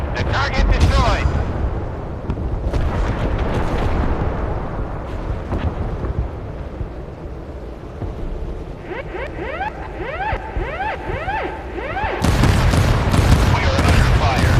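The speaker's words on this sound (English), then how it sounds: "We are under fire." Warship battle in the game Force of Warships: loud booming cannon fire and missile launches, rumbling explosions and rapid bursts of gunfire, with fast whooshing projectiles near the end and voice lines spoken over the din.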